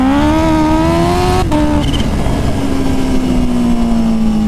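A stock Kawasaki H2 motorcycle accelerates hard past a Lamborghini, its loud, steady engine whine climbing in pitch, briefly shifting, then settling into a sustained high drone up close.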